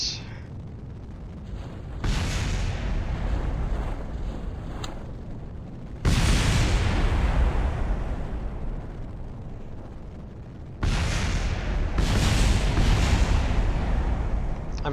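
Loud bursts of fireworks explosions in a rocket video game, coming in heavy broadband waves with brief lulls between them, booming and crackling throughout.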